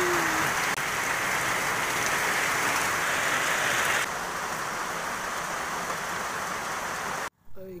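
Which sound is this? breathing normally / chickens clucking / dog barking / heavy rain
heavy rain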